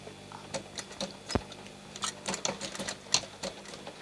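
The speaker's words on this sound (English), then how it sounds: "if you sew it right on the edge there, you get a much better finish" A sewing machine stitches along the top edge of curtain heading tape on a lined curtain, giving a run of close, uneven mechanical ticks and taps with short pauses between bursts.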